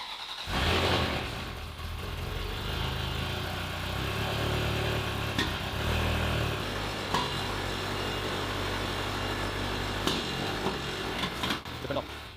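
A neglected Ferrari 360 Spider with poor throttle response, its engine starting with a burst and then idling and revving unevenly at close range for several seconds, with faint occasional clicks and knocks.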